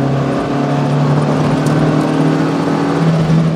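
A 1967 Renault 8 Gordini engine pulls hard under full throttle in fourth gear, a loud, steady, close-up drone with strong low hum, continuing alone without talk.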